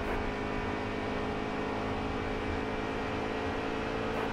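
A NASCAR Xfinity race car engine at Homestead in NASCAR Heat 3, a steady droning hum held at constant pitch throughout, moderately loud with no breaks.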